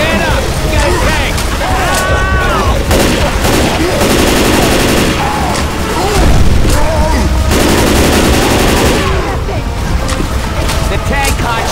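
Gunfire aimed at the Tank in the Left 4 Dead 2 game: loud, sustained bursts of automatic and shotgun fire with booming impacts, mixed with game music and effects, while people talk over it.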